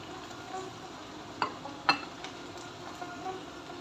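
Onion and tomatoes frying in a pan as a spoon stirs them: faint steady sizzle with a couple of sharper scrapes and clinks against the pan, close and quiet, no voices.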